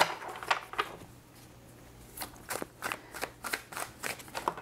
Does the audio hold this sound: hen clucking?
no